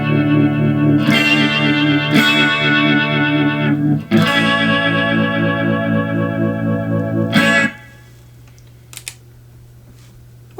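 Electric guitar chords through a Digitech Ventura rotary speaker pedal, swirling warbling sustained tones with several fresh strums, then an abrupt stop leaving a low hum and a couple of small clicks.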